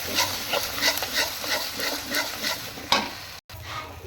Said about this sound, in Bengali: যতক্ষণ তেলটা না ছাড়বে আমি ততক্ষণ কষাবো